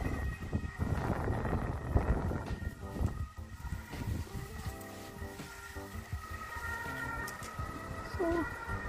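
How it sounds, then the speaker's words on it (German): An emergency vehicle siren wails in the distance during an evening walk outdoors. It is faint and partly buried under gusty wind noise on the microphone, with no voices. "Bei uns ist hier Tatütata."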